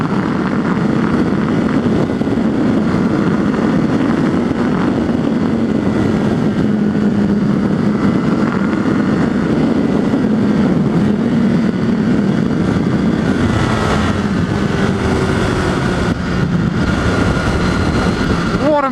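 A 2016 Honda CBR1000RR Fireblade at speed gives a steady, loud engine roar mixed with wind rush, with no clear gear changes, and a brief tonal rise near the end.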